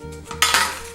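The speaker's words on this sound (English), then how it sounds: "And this is called popping the can" A refrigerated dough can is struck against a kitchen counter, giving a sharp hollow pop followed by a short rustling crackle, close and brief, over a faint low hum.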